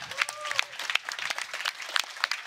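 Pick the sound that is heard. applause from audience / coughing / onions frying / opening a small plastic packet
applause from audience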